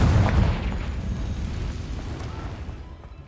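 In Hogwarts Legacy, the Confringo blast spell goes off as a single deep, booming explosion right at the start, then a rumbling tail that fades away.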